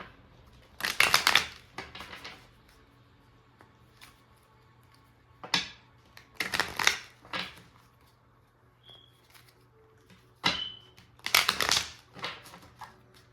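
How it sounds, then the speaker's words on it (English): Tarot card deck being shuffled, in close, crisp bursts of riffling and flicking separated by quiet pauses, repeated several times with no talking. "I'm gonna shuffle one more time."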